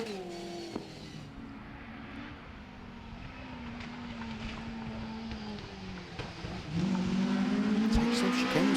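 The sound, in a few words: rally car driving through chicanes at Oulton Park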